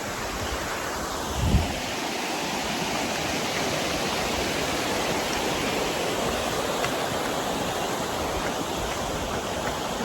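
Hebbe Falls waterfall pours in a steady, dense, broadband roar that stays loud and unbroken throughout, with no voices.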